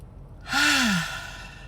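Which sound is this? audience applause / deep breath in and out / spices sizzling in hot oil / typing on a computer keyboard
deep breath in and out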